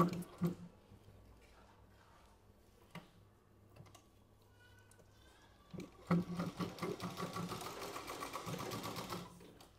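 A sewing machine runs a straight stitch on a blouse. After a few soft handling clicks and quiet pauses, it breaks into a fast, even, rattling whir that goes on steadily.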